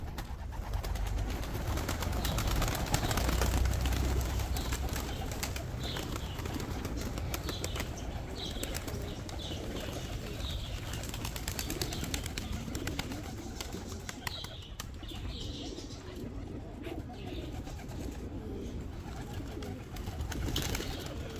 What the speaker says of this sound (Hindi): सभी कबूतर बाहर आ चुके हैं